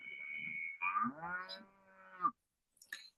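A single cow moos in one long, drawn-out low call, close and clear, followed by a brief faint noise.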